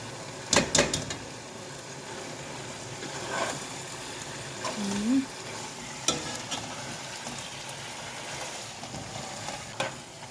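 Mushrooms hit a hot frying pan with a sharp burst of sizzling, then keep frying under intermittent scraping and stirring strokes, each one bringing a louder hiss or clatter; no talk.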